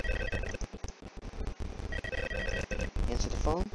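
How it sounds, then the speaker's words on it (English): A telephone rings in Five Nights at Freddy's 2, its repeated electronic trill sounding close and loud over dense game noise, with a brief rising tone near the end. "Answer the phone."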